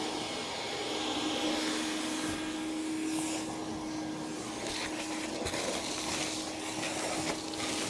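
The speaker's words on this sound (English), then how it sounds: "We don't want to vacuum too hard or we're not going to have much of a car left." A vacuum cleaner cleaning a 1957 Chevy undergoing restoration runs steadily throughout, a loud continuous motor whine with a constant hum and broadband hiss, with no voices over it.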